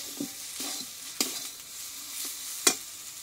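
Potatoes stir-fried with spices in a pan: a soft continuous sizzle broken by about five distinct spatula scrapes and knocks at irregular intervals, heard up close without speech.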